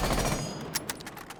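A rifle fitted with a compensator fires in Rainbow Six Siege: a dense rattle of rapid shots at the start, then a few sharper separate cracks, loud and close, with no talking.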